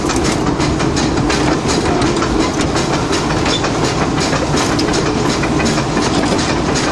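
Disneyland Railroad steam locomotive built by Baldwin Locomotive Works in 1894, heard from the cab as a loud, continuous rumble with steady clickety-clack of wheels on track.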